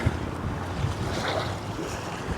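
Wind gusts buffet the microphone while fishing outdoors by the water, a steady loud rumbling roar with washing surf-like noise and no speech.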